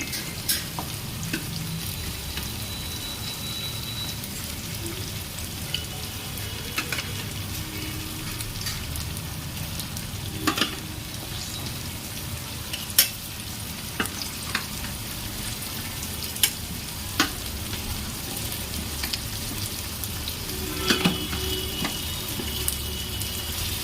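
Chicken pieces fry in hot oil in a pan for a light home-style curry: a steady, dense sizzle and crackle with occasional sharp pops and stirring clatters, close and continuous, with no talking.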